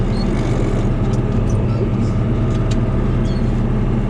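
Oliver tractor engine running steadily while baling first-cutting hay in a field, a loud, continuous low rumble with faint clanks from the machinery.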